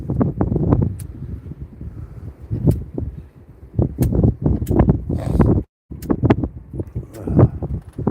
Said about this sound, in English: It's fucking windy as shit out here.